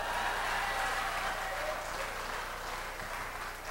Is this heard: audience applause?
yes